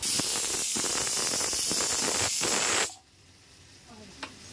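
Steam hisses loudly and steadily from a pressure cooker holding rice, lemon juice, salt, oil and ghee, then cuts off sharply, leaving a quiet room with a faint knock.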